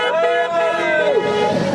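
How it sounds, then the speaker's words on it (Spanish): Car horns honk in a sustained, wavering blare during a protest march along a Barcelona route, loud and close with crowd noise around them. "Que suene la bocina, indignados con el claxon."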